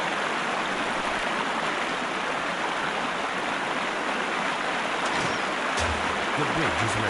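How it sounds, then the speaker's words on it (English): A loud rushing stream in the video game Sherlock Holmes: Crimes and Punishments, heard as a constant dense roar of flowing water throughout, with faint low thuds near the end. "Water's so loud."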